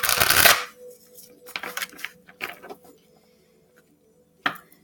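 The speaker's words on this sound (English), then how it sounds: "as I'm about to shuffle your love cards" Tarot cards for a love reading are shuffled in a loud burst at the start, followed by softer riffling and card handling that fades, with one more brief card sound near the end; no talking.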